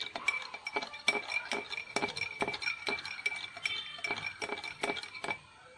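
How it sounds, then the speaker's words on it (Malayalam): A spoon clinks repeatedly against a glass while stirring turmeric powder into a liquid until it dissolves, giving a quick, irregular series of close, bright taps with no talking. "നല്ലപോലെ മിക്സ് ചെയ്യണം നല്ല അലിയുന്ന വരെ മിക്സ് ചെയ്യുക"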